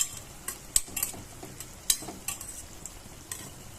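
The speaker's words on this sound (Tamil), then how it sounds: "போட்டு கொஞ்சம் ஃப்ரை பண்ணி எடுத்து வச்சுக்கோங்க" Stirring and frying in a pan while making coconut jaggery burfi: soft scrapes and clinks of a spoon against the pan come in irregular bursts over a faint sizzle, close and fairly quiet, with no talk.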